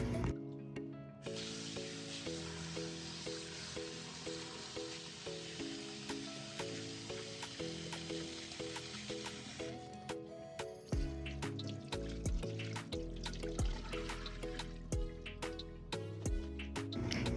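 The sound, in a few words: rinsing broccoli under running water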